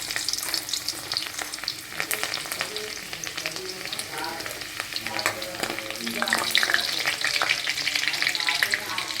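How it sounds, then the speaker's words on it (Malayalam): Finely chopped garlic fries in hot sunflower oil in a pan, a loud continuous sizzle with crackling pops and occasional stirring scrapes, heard up close with no talking. "ഇനി നമുക്കൊരു ചീനിച്ചട്ടി അടുപ്പ് വെച്ച് കൊടുത്തിട്ട് കുറച്ച് സൺഫ്ലവർ ഓയിൽ വീണ്ടും ഒഴിച്ചു കൊടുക്കാം"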